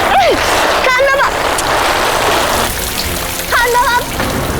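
Water from a fountain pours down like rain onto a person, a steady broadband splashing hiss throughout while voices talk over it.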